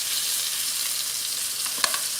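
Pieces of lamb sizzling in a hot hexclad frying pan, a steady bright hiss of frying with a brief clink of the pan near the end, close and without talk.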